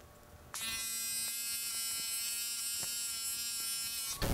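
Electric hair clippers buzz steadily, close and loud, for about four seconds while trimming the edges of a men's medium-length fade haircut, switching on abruptly and cutting off at the end with no talk.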